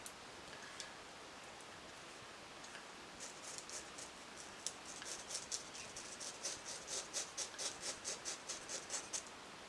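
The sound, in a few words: scissors cutting a water wave bob wig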